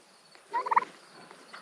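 A meat turkey gobbles close by outdoors on a farm, a short rapid burst of warbling calls lasting under half a second, loud against quiet surroundings with no talk.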